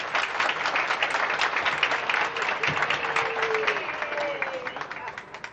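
A crowd at a youth volunteer awards ceremony claps steadily for an award winner, a dense, continuous applause that carries through to the end, with a brief whistle-like cheer rising above it partway through.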